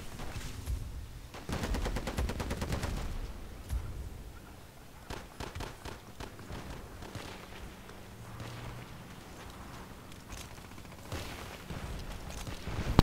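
An M249 SAW machine gun fires in a video game, with rapid bursts and rattling strings of shots, some sharp and close, spread over a low background rumble and with pauses between bursts.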